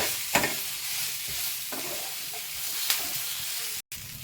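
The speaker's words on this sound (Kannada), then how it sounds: "ಕರ್ಬೇವಿನ ಸೊಪ್ಪು ಹೀಗೆ ನೀಟಾಗಿ ಪಾಡಿಸ್ಕೋಬೇಕು" Curry leaves fry in hot oil in a pan for guava chutney, giving a steady close sizzle broken by a few scraping stirs, with no talking.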